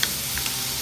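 Ossobuco beef shanks searing in a hot pan, a soft steady sizzle with a couple of faint crackles and pops, quiet and continuous with no speech.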